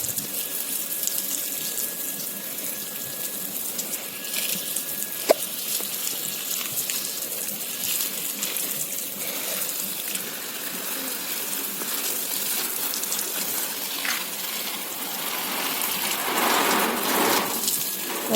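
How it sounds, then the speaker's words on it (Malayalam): Water streams steadily from a garden hose onto sun-loving potted plants outdoors in Munnar, a continuous close splashing hiss that swells louder near the end, with no voices. "ഇതേപോലെ ഓസ് കൊണ്ട് ഞാൻ വെള്ളം ഒഴിച്ചു കൊടുക്കുന്നതാണ്"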